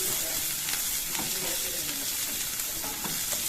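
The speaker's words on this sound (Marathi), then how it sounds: "आता सर्व तेलात परतून घेऊ आपण" Capsicum and paneer cubes frying in oil for chilli paneer give a continuous close hiss and crackle, with soft stirring scrapes now and then.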